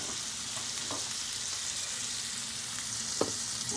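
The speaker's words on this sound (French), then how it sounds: "notre beurre est bien mousseux et commence même à être un petit peu bruni ici, ce qu'on appelle un beurre noisette" Butter foaming and browning in a pan on the stove into beurre noisette, a soft continuous sizzle and crackle with a few small pops, heard alone at low level.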